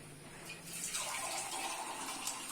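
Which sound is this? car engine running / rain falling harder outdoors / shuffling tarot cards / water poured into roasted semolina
water poured into roasted semolina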